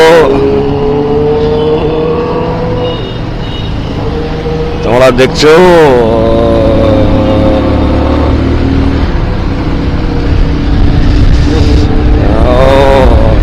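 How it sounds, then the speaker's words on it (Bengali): Two superbikes, a Ducati and a Ninja, roar past on a bridge road in Kolkata, their engine notes rising sharply in two quick close passes amid steady traffic and wind noise while a rider talks throughout. "দুটো সুপার বাইক বেরিয়ে গেল, একটা ডুকাটি ছিল আর একটা নিনজা ছিল।"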